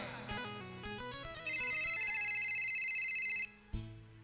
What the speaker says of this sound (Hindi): तभी एक दिन अनिल भैया के पास एक भगत का फोन आता है।